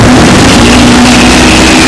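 An electric Dodge Charger plays a loud, artificial, throaty exhaust sound: a continuous, close, heavy engine-like roar with a steady low hum.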